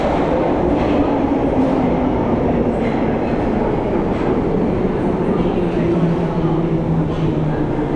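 A London Underground Bakerloo line train heard on the Charing Cross platform: a steady, loud rumble of wheels and motors runs throughout, with some voices faintly mixed in.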